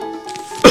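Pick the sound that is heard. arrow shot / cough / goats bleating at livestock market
cough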